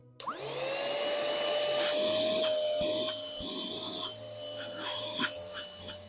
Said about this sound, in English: this is handy for just cleaning up those crumbs and little things around the house that need to be picked up.